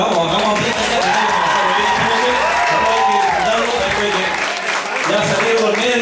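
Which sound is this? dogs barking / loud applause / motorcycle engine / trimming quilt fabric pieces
loud applause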